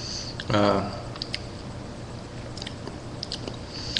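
Biting into a Round Savannah 7 chile pepper, a juicy pod with medium skin and a thick bottom, gives one short crunchy bite followed by faint, soft chewing, close and quiet with a voice briefly heard.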